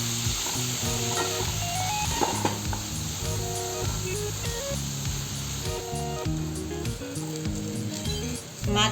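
Pieces of fish fry in hot oil in a pan for a Bengali bhujia fish curry, giving a steady, close crackling sizzle that runs the whole time beneath louder background music.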